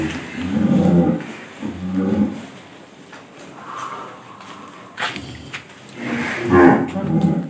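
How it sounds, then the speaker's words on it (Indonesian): Cattle low and moo repeatedly after arriving at a farm pen, several bellows of varying pitch close by, with quieter gaps between calls and no talking. "Sapinya setelah sampai kandang"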